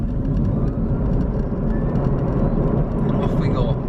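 A modified Honda e electric car accelerates hard in sport mode, a steady loud broadband drive and road roar holding constant from inside the cabin.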